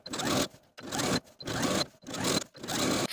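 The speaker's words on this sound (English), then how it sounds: "you're going to sew the seam allowance to the facing 1/8 of an inch away from the original stitching line all the way around" A sewing machine understitching the seam allowance to a dress facing runs in four short bursts of rapid, buzzing stitching, each separated by a brief pause.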